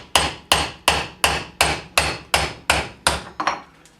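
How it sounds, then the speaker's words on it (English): Hammer blows drive a bearing out of a Gravely mower spindle through a socket, about ten sharp, evenly spaced metallic strikes at close range, each ringing briefly, with no talking. "Now I'm going to go ahead and push the bearing out the other side."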